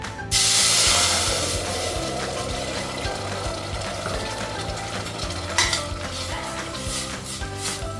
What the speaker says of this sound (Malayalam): ആ നെയ്യിലേക്ക് തന്നെ നമ്മൾ അരച്ച് വെച്ചിരിക്കുന്ന തക്കാളി